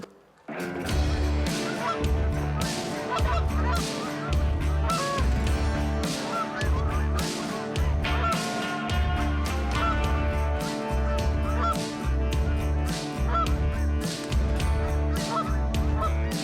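Geese honk loudly and continuously at a hunting blind at dawn, a dense overlapping chorus of many calls with a steady low rhythmic thumping underneath throughout.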